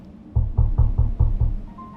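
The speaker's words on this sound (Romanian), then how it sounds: "Am bătut din nou la ușă." Knocking on a wooden door at an old house in an abandoned mining town, six firm, evenly spaced knocks close by, with no voices.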